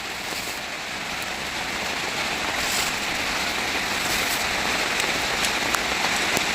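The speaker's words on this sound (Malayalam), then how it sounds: "എല്ലാത്തിനും ഇത്തിരി ഇത്തിരി ഇത്തിരി മഴയൊക്കെ ചാറുണ്ട്" Light rain drizzles steadily outdoors, a dense, even patter of drops on surfaces that holds at a constant moderate level throughout, with no voices.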